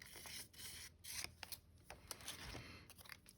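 Scissors snip and trim paper for an altered book paper bag flip page, a run of close, crisp cuts with rustling paper between strokes.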